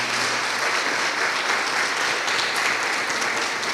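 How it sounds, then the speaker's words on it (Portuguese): A church congregation claps loudly and steadily throughout, dense applause filling a large room with no pauses. "E eu queria inclusive pedir um aplauso ao Senhor pela vida deles"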